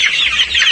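Chickens showing snoring-like respiratory symptoms, clucking loudly and close by in a short burst of two or three quick calls.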